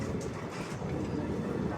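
A DMU train runs on the Katra to Srinagar line, crossing the world's highest railway arch bridge, giving a steady, dense rumble of wheels and engine held at an even level throughout, with no voices.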